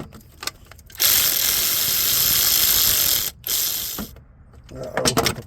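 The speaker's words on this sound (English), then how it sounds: "Let's grab the electric ratchet now." Electric ratchet whirring steadily while loosening a bolt in the engine bay of a 2003-2007 Honda Accord 2.4L, a loud continuous buzz of about two seconds, a brief pause, then a second shorter run, with clicks and handling noise around it.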